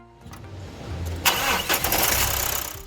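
The 2.2 SKYACTIV-D diesel engine of a Mazda CX-5 cranks and fires. It catches quickly and settles into a loud, close, clattering idle with no one talking.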